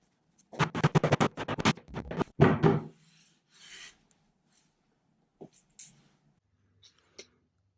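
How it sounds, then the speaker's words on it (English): Hand sanding wooden table pieces to fit, a run of quick rasping back-and-forth strokes up close, then a few faint scrapes and taps after a pause. "so I sanded them down to fit."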